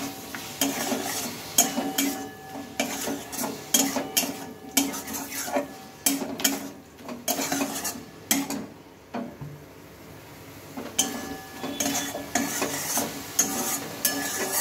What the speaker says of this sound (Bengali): সয়াবিনটা এখন এর মাঝে দিয়ে নিলাম, দিয়ে একটু ভালোভাবে মশলার সাথে এটাকে আমি কষিয়ে নেব।